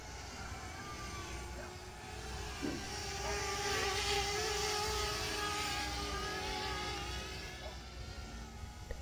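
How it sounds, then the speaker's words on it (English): A drone hovers at fairly close range, its propellers producing a thin, screechy, insect-like buzz with steady tonal harmonics that swell slightly louder midway and then ease off. "It seems like most of the noise is, in fact, just the propellers."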